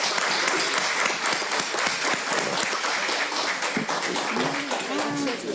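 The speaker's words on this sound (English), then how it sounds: "give a warm round of applause to those hardworking men and women that are coming in to protect our streets" Applause from the audience at a village board meeting, a steady patter of clapping from a modest room crowd, with voices talking under and through it toward the end.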